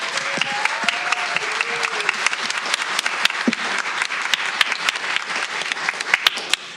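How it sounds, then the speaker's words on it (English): An audience at a school board session applauds steadily for a newly appointed staff member, a sustained patter of many hands clapping at moderate distance, with a few faint voices underneath. "let's give her a round of applause"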